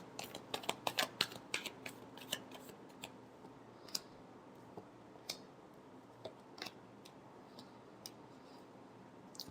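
Tarot cards being shuffled by hand, soft papery riffles and flicks coming in quick irregular bursts close by and quiet, with pauses between clusters and no voices.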